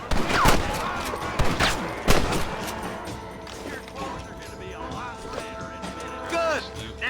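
Western video game gunfire in Red Dead Redemption, a few sharp shots early on followed by quieter game sounds and background effects, with voices talking over much of it.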